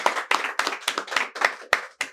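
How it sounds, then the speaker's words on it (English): Rhythmic clapping during a business group discussion, about eight even claps in two seconds, close and loud, sounding like a single person or a small group. "Give a round of applause, ladies and gentlemen."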